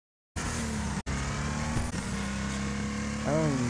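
Mustang engine in Wreckfest, a racing video game: a loud, steady roar with a brief cut near the start and a rising rev toward the end, under a voice talking.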